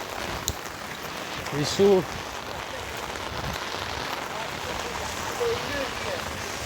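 Heavy rain pours steadily onto a flooded road in Dubai as a broad constant hiss, with someone speaking briefly under the downpour.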